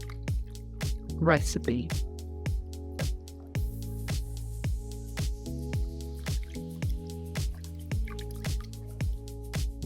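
Wet paper squelches and drips as it soaks in water for a cement papier-mâché mix. Soft squishes and dribbles come in small bursts under a talking voice, with steady background music throughout.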